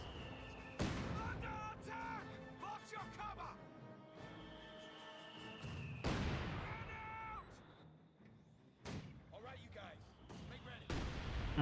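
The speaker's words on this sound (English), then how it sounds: "Mortar misses." Mortar shells bursting in Company of Heroes 2, several booming blasts scattered among battlefield effects and unit callouts, fairly faint in the mix.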